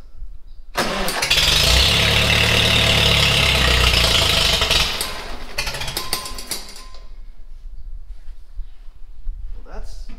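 A 1945 Farmall H tractor engine cranks and catches at half throttle, roaring loud and rough for several seconds before settling into a lower, uneven idle, close by, with a faint metallic clank near the end.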